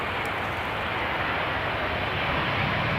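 Boeing 787-8 Dreamliner, flight 900 from Montreal, arriving at Amsterdam Schiphol on a sunny day: a continuous loud jet roar, dense and unbroken across the brief span, with no talk.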